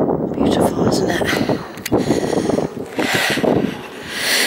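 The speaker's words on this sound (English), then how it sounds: "the cool wind is actually a blessing" Cool wind rushes loudly and continuously across the microphone on a hilltop walk along the Mendips spine near Cheddar in the Somerset countryside, gusting in waves with faint voices partly buried beneath it.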